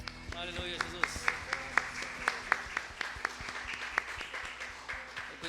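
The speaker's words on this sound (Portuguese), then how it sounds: "Uma salva de palmas para o Senhor." A church congregation at a weekly meeting claps along in an uneven rhythm, sharp individual claps standing out over a murmur of voices.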